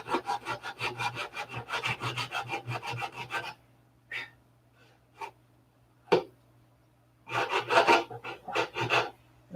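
Brisk back-and-forth hand sanding of a wooden piece, a fast rhythmic run of rasping strokes, then a pause with a few isolated scrapes before another quick burst, close and clear with no talk.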